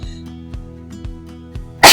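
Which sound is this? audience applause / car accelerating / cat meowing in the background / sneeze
sneeze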